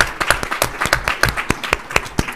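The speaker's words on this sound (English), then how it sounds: "I want to give another round of applause for all of our student athletes and academics." A school board meeting audience claps together in a brief round of applause, sharp separate hand claps sounding close and fairly steady in rhythm.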